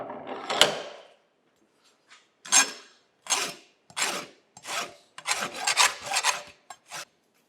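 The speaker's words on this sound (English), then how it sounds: "I'll just use a deburring tool to go around this and get a little chamfer on that outside edge." A hand deburring tool scrapes around the outside edge of a turned journal on a Chattanooga cane mill part to cut a chamfer, giving several short, close rasping strokes with brief pauses between them.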